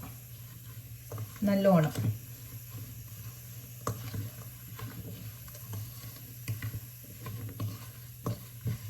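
Banana flower pickle is stirred in a pan with a spatula, giving soft, faint scraping and wet squishing taps spread through the clip, with someone briefly speaking near the start.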